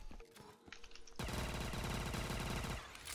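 A burst of rapid automatic gunfire with explosive-tipped rounds in the Call of Duty Vanguard video game follows quieter scattered clicks and shots. It forms a dense, loud volley that holds for under two seconds before cutting off.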